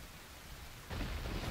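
In the video game Zelda Ocarina of Time, a soft rain hiss suddenly swells into a loud, deep rumble of thunder that holds through the end, with no voices over it.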